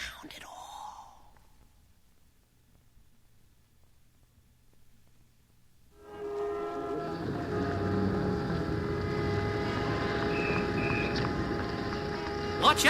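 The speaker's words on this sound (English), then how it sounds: "Didn't you see that big truck coming along?" A big truck passes along a street as a sound effect on a 1964 children's puppet-show record. A brief breathy sound opens a long near-silence, then a rumbling engine rises abruptly and holds loud and steady to the end.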